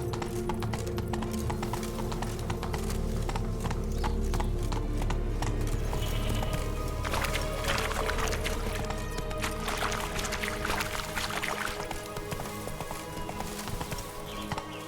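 Roach, a horse in The Witcher 3: Wild Hunt, galloping in a steady run of loud clip-clop hoofbeats, close and continuous, with no talk over it.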